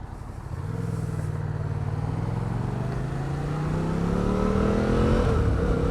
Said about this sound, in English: as you notice every time I'm shifting up to the gears, I'm hitting the third, going to third